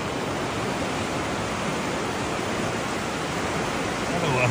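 Lidder river rushing through Pahalgam, Kashmir, during rain: a steady, loud broadband wash of flowing water fills the whole stretch without a break.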